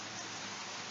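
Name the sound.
rain falling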